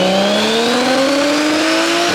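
A Nissan S13 with a swapped 1JZ-GTE engine screams loudly at high revs on a dyno, its pitch climbing steadily and continuously with no voices.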